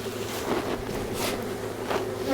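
Honeybees buzzing steadily around a hive outdoors, a continuous close drone with a few louder passes as individual bees fly near, no talking.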